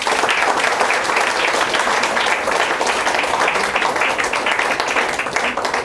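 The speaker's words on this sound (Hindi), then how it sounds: "एक बार हम लोग सब लोग मिलके प्रभु यीशु मसीह के लिए ताली बजाएंगे।" A church congregation applauds together, dense and loud clapping that carries on steadily for several seconds without a break.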